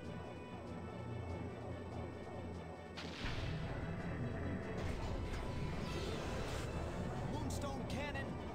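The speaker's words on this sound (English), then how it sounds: "Moonstone cannon, fire!" Moonstone Cannon blasts in a video game, a sudden heavy boom about three seconds in followed by sustained rumbling, explosive noise and crackling debris under a busy game soundtrack.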